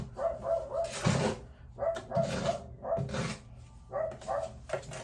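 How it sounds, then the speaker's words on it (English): A dog barks loudly and close by in repeated bursts of several sharp woofs, separated by short pauses. "Big mouth dog!"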